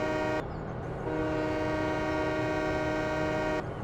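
Train horn in the Farming Simulator 17 game, a loud sustained harmonic blast that breaks briefly and resumes, holding steady for several seconds over a rumbling engine before cutting off.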